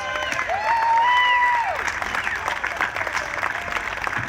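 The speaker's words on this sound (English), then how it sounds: "Give a big round of applause." Crowd applause and cheers at a Second Amendment rally in Tallahassee, a steady roar of clapping with a rising whistle or shout near the start, sustained throughout.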